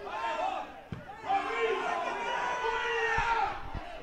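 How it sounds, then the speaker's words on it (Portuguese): A football crowd at a Guarany versus Força Jovem match in the Sergipano Série A2 championship shouts and cheers in a sustained, dense roar, with a few sharp thumps cutting through. "A torcida grita, vibra"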